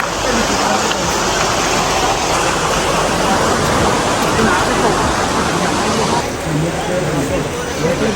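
A waterfall in Pakistan roars steadily without a break, a loud, broad rush of falling water that fills the whole scene.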